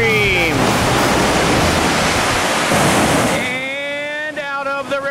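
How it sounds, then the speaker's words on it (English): Roaring whitewater rapids on the Lower New River at Upper Railroad's Maytag Ledge while rafting, a loud broad rushing crash that fades after a few seconds as a voice speaks and whistling tones rise. "And out of the river comes more whitewater action."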